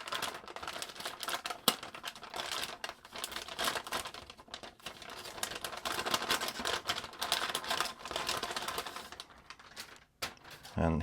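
Bag for an MSI RTX 4060 Ventus 2X Black graphics card is handled during unboxing, giving close crinkling and rustling with sharp clicks and taps in uneven bursts; brief speech comes near the end.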